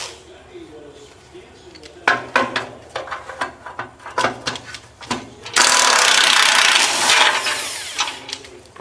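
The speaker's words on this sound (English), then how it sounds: "I'm breaking out the big dog here, the Milwaukee M18 half-inch impact" A Milwaukee M18 half-inch impact wrench hammers at shock dampener bolts on a Model A build, in rapid rattling bursts followed by a long loud continuous rattle, with the worker talking over it.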